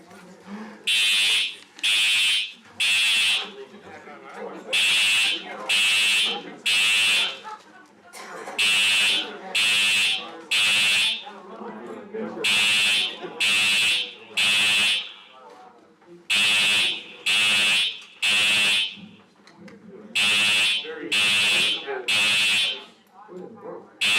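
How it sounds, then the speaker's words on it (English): A fire alarm in a meeting room sounds in repeated bursts of three loud, harsh buzzing tones, cycling steadily throughout while people talk between and under the blasts. "I think the fire alarm's going off."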